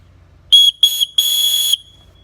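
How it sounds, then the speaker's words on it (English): A survival whistle built into a paracord bracelet gives three shrill blasts, two short and one longer, loud and close with quiet between. "let's try this whistle now"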